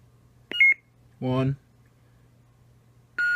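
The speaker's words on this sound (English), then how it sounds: "2 beeps lets you change the sound font." A custom lightsaber emits two short electronic beeps while its sound font is being changed, separated by a brief spoken word, over a steady low hum from the blade.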